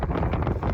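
Gusty wind thumps and rumbles against the microphone in uneven bursts, loud and close, with no speech.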